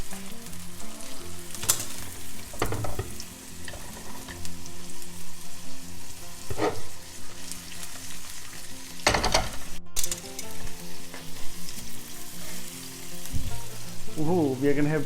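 Kangaroo burger patties frying in butter in a pan, a steady close sizzle with occasional louder pops and scraping stirs breaking through at irregular moments.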